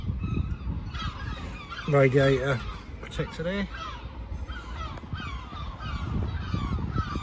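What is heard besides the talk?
seagulls calling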